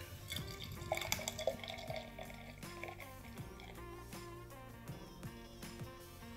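Craft beer, a hazy Omnipollo Zodiak Multiverse, glugs from a can into a glass, a burbling liquid pour with dripping and fizz, fairly quiet and close, with no talk over it.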